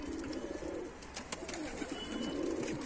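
Turkish tumbler pigeons cooing outdoors among a loft flock of dolapçı, dönek and related breeds, a steady run of overlapping low throaty coos close by with no talk.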